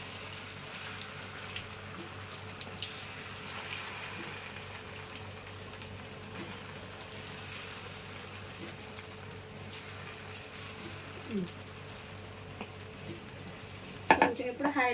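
Chicken pakodi pieces fry in a small amount of oil with a steady, even sizzle that runs throughout, close and moderately loud, with a few sharper crackles and clatters near the end.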